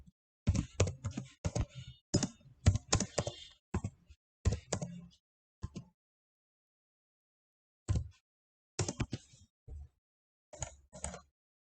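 Keys on a computer keyboard clatter in quick bursts of typing separated by pauses, crisp and close, with a long silent gap partway through and no talking.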